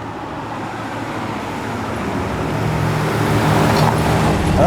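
A classic Chevrolet with a 427 engine runs steadily, its broad rumbling drone holding constant and swelling slightly louder toward the end, with no talking.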